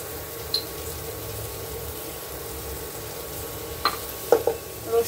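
Garlic frying in a pan during home cooking, a soft continuous sizzle with a few sharp clinks and stirring knocks near the end, with no voices.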